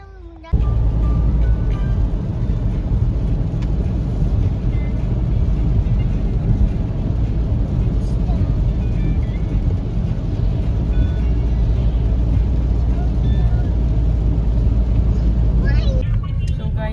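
A car drives home toward Saskatoon, its cabin filled with a loud, steady road and engine rumble that holds level throughout after a brief quieter start.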